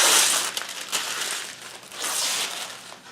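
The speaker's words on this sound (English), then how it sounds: "and remove the wax paper." Wax paper is peeled off freshly glued wood with close, crackling crinkles and tearing rustles in two brief surges, with no talking.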